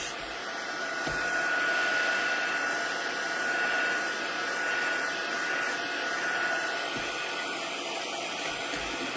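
A heat tool blows hot air to dry a wet stamped paper craft piece, a steady loud whooshing roar with a faint whine that holds for the whole stretch with only slight swells, and no talking.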